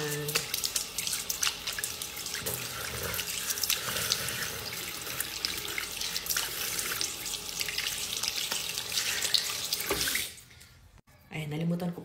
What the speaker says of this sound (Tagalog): nalimutan ko pala maghugas ng kilikili kaya hinugasan ko muna ulit siya